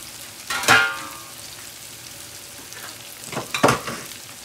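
Chopped cabbage hits a pan of olive oil already holding onion, garlic, thyme, basil and parsley. Two loud bursts of sizzle and clatter come about three seconds apart over a low background hiss.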